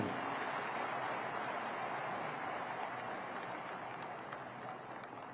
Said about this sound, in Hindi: शिवराज जी को स्वागत जोरदार ताली बजाकर कीजिए साथियों